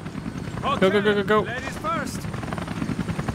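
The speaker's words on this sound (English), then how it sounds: "Helicopter!" Helicopter in the video game Resident Evil Revelations, a steady rotor drone running under excited shouting from a player for the whole stretch.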